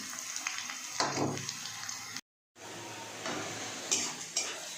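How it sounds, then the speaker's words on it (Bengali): Cumin, chilli and turmeric powders fry with onions in hot oil, a soft sizzle broken by scraping stirs and clinks of a pan, with a brief dropout partway through. "পেঁয়াজটা ভাজা ভাজা হয়ে গেছে। এর মধ্যে দিয়ে দেবো হচ্ছে জিরের গুঁড়ো, লঙ্কার গুঁড়ো, হলুদের গুঁড়ো"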